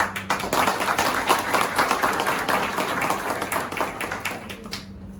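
Seminar audience applauding at a celebration event in Mumbai, a dense continuous wash of many hands clapping that thins toward the end.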